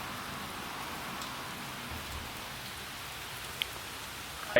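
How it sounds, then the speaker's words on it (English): Steady rain falling outside near a garage, an even hiss that runs throughout at moderate level, with a couple of faint drips or taps near the end and no talking. "Look how beautiful that rain looks like it's coming down."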